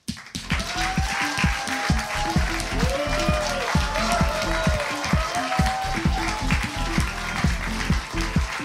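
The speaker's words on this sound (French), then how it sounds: "Je vous demande d'applaudir Néphel," Audience at a cabaret show clapping for a striptease performer, with rhythmic, fairly close claps in a steady beat over music and voices.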